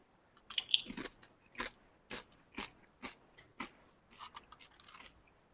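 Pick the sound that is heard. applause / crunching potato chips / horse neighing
crunching potato chips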